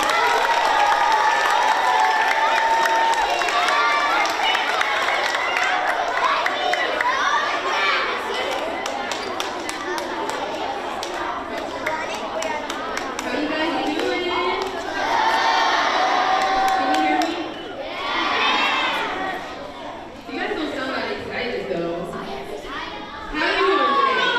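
A children's audience at a school arts celebration claps and cheers for a saxophonist, a loud, sustained mix of applause, high-pitched shouts and chatter that rises and dips in waves.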